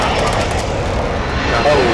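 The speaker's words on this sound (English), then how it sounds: "Be advised, friendly precision airstrike inbound." Jet flyover from a precision airstrike in Call of Duty: Warzone, a loud steady engine roar sustained through the moment and rising slightly at the end, with voices talking over it.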